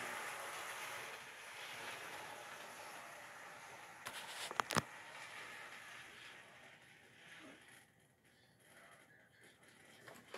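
A Bachmann N scale American 4-4-0 model train runs on a layout, pulling out of a station: a faint, steady mechanical whir with a brief cluster of sharp clicks midway, then a softer, thinner rolling hum.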